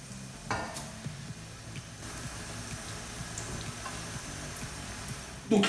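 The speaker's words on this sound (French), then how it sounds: "Maintenant que mes oignons sont bien sués, je vais pouvoir rajouter les choux qu'on a coupés et bien sûr qu'on a blanchis." Blanched, chopped curly kale going into a pan of sweated onions for a buttery cabbage dish: a low, steady sizzle with soft stirring and scraping, fairly close, ending in a brief louder clatter.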